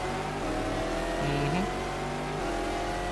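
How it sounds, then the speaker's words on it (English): A race car engine in a Le Mans racing video game drones loud and steady, then drops pitch and blips as it downshifts, with a layered mechanical whine throughout. "That sounds nice on the downshift."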